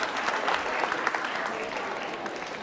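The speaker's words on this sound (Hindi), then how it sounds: "और उन्हें तालियां तो बजनी चाहिए साहब" Sustained, dense applause from an audience at a school quiz show for Navratri, steady and fairly loud throughout with no pauses.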